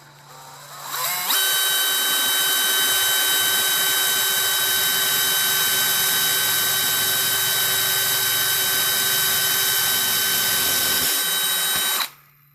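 A Harbor Freight metric combination drill-and-tap bit is driven by a power drill, producing a steady, loud, high-pitched whine that holds constant for about eleven seconds before cutting off abruptly, with no talking.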